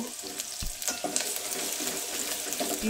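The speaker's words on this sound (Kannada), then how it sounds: "ಇವಾಗ ಈರುಳ್ಳಿ ಹಸಿಮೆಣ್ಸಿನ್ಕಾಯಿ ಹಾಕಿದ್ದೀನಿ ಇದೆರಡೂ ಚೆನ್ನಾಗಿ ಫ್ರೈ ಆಗಕ್ಕೆ ಬಿಡಬೇಕು" Onion and green chili sizzle in hot oil already holding cumin and mustard seeds while dal tadka is prepared, a steady close frying hiss with a few sharp pops and faint stirring, no talk.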